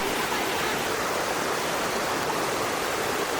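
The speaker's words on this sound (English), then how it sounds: "This is the real waterfall" A real waterfall at Palasanon roars as a steady, dense broadband rush of falling water, loud and continuous without pause.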